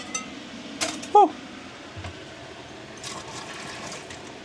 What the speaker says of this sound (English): Some nice hot water. That'll clean out my pipes.